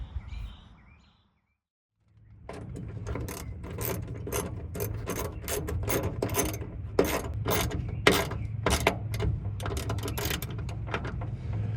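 A hand wrench ratcheting in quick bursts of clicks while bolting down a part on a Cherokee jet jon boat build, close and crisp after a brief quiet pause, with no voices.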